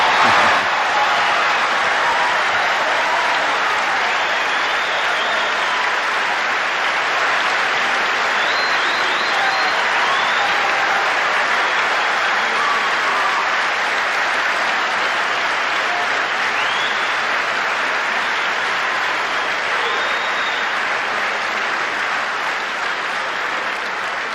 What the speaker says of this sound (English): I can see from your applause, sisters and brothers, that you agree with the report.